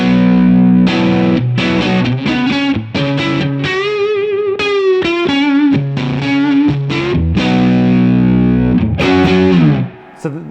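Electric guitar through an Origin Effects RevivalDRIVE overdrive pedal, gritty overdriven tone playing a continuous run of chords and single notes, loud and sustained, no voices.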